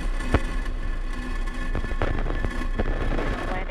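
The engines of a SpaceX Falcon rocket roar after liftoff on the SDA Tranche 0B launch, a loud, continuous crackling rumble with sharp popping bursts, heard from a distance.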